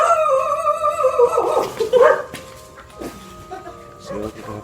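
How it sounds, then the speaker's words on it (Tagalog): A dog barks and whines outdoors at night, with loud, drawn-out yelping tones near the start that fade into quieter background sounds, and people talk nearby. "Aso dyan."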